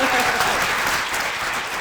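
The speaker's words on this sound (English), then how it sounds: "if we can give Tyanna one more round of applause" A loud, continuous burst of applause greets artist Tyanna Buie at the end of her talk, many hands clapping densely and evenly, with a voice briefly audible under it.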